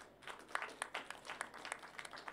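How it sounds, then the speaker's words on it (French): Scattered, thin applause from a small audience, a few hands clapping in an uneven rhythm for a couple of seconds, fairly faint and distant. "applaudissez."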